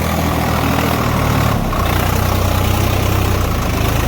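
A tractor engine runs steady at a set RPM, a loud, close, low diesel drone with a slight shift in pitch partway through. No one speaks.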